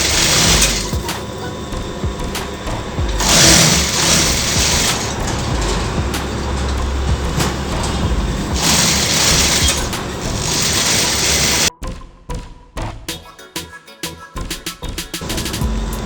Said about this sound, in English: Now we'll give the stitch line. You have to stitch it straight.